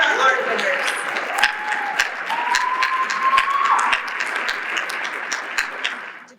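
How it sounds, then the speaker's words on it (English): Audience applause at a community MLK Day celebration, greeting the art contest winners as they come up for a photo with the mayor, with steady clapping running under background chatter and a few sharper individual claps. "Let's give them a round of applause."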